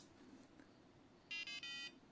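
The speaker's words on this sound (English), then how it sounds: "you can hear that it also features a buzzer" A Heltec V3 Meshtastic personal node in a tacticool enclosure gives a quick series of three short, high electronic buzzer beeps when switched on, faint against a quiet room.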